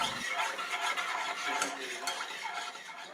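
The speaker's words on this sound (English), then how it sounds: "And mix that together until it dissolves." Sugar stirred into a hot orange juice mixture until it dissolves, a spoon scraping and swishing continuously against the pot, close and quiet.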